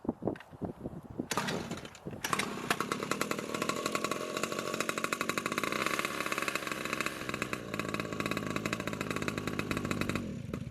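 A small 2-stroke pocket bike engine sputters through a few rough bursts, then catches and runs in a loud, raspy, buzzing idle with a rapid chainsaw-like pulse, close by and alone.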